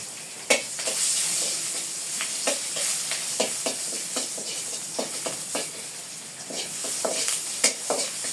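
Chopped onion sizzling in hot oil in a pan after fish frying, a continuous close hiss punctuated by regular stirring knocks and scrapes.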